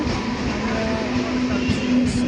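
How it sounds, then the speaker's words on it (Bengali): An approaching train rumbles steadily nearby with a low droning hum and metallic rolling noise, continuous and loud, with faint voices. "ট্রেন চলে আসছে"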